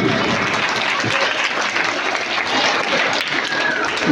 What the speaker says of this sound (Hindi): आपकी तालियों की आवाज में कमी नहीं होनी चाहिए.